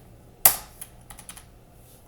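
Single sharp click of a computer keyboard key being pressed, followed by a few faint, lighter key taps in a quiet room.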